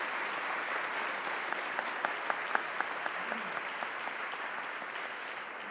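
Audience applause welcoming Carlo Sangalli, president of Confcommercio, at an economy awards ceremony in Friuli Venezia Giulia; steady, moderately distant clapping from a seated crowd, with a few sharper individual claps standing out.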